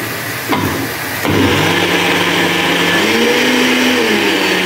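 An electric blender grinds homemade tahini from toasted sesame, a loud steady whir that briefly dips before settling into a continuous, strained motor drone with a shifting pitch.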